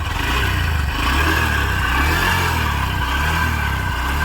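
A Honda SP125 motorcycle, BS6 model, engine running with a steady, continuous mid-pitched hum and clatter, loud and close throughout, with no voices over it.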